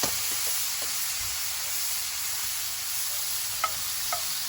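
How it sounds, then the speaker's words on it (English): Small shrimp sizzle steadily in a hot oiled pan for a Malagasy coconut ginger shrimp dish, a constant close frying hiss with a few faint utensil taps, no talking. "I'm adding half of the batch of shrimp to the pan because we've doubled the recipe"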